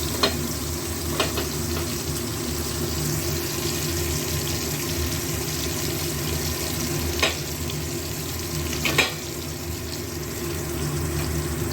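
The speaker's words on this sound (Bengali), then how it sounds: "পেঁয়াজটাও খুব কড়া করে ভাজা যাবে না, জাস্ট এপাশ ওপাশ করে একটু ভেজে" Onion fries briefly in a pan, turned from side to side, with a continuous soft sizzle and a few sharp clicks of a utensil against the pan, no one talking.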